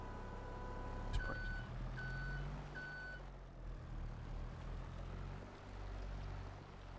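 Reversing beeps from a forklift in Farming Simulator 22 sound three times, short evenly spaced tones over a steady low engine rumble, with no voices.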